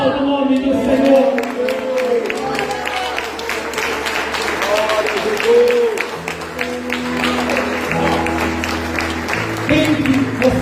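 A church congregation applauds during a Portuguese-language anniversary worship service, a steady patter of clapping mixed with cheering voices and sustained instrumental music underneath.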